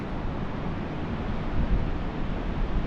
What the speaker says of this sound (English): Sun's shining, it's windy, the seas are crashing on the shore.